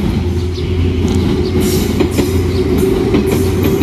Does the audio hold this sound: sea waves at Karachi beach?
no